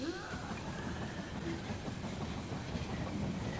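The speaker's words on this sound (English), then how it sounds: "if there are any zombies on the train track, the train will knock them out the way and destroy them" In the video game They are Billions, a train runs along its track with a steady rolling rumble and faint clickety-clack, moderately quiet and continuous, with no talk.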